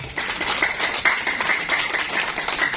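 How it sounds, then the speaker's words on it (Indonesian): Clapping from an audience at an Indonesian business seminar, a short, light patter of hands that fills the few seconds at moderate volume. "Beri tepuk tangan untuk Pak Edi Sadra."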